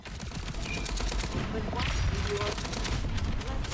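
DMR rifle fire in the online shooter FragPunk: a dense volley of rapid, punchy shots overlapping one another, loud and continuous across the whole stretch.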